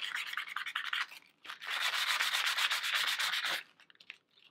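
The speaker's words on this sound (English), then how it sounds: "you're gonna lightly use the sandpaper to just lightly go over the gesso" Sandpaper of a fine grit rubbing lightly over a gesso-primed surface, close and steady: a run of quick scratchy strokes, a short pause, then a longer sustained stretch of brisk back-and-forth sanding, tailing into faint scrapes.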